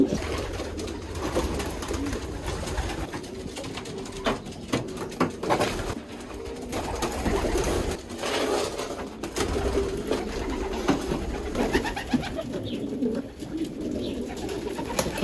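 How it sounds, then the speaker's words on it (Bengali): Pigeons in a loft coo in soft, repeated murmurs, with several birds overlapping at moderate distance. Occasional light rustles and pattering sit under the calls for about fifteen seconds, with no talking. "এখানে দেখুন সবগুলো কবুতর,"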